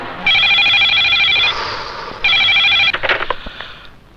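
A telephone rings in two long electronic bursts separated by a pause, followed by a clatter like a handset being picked up.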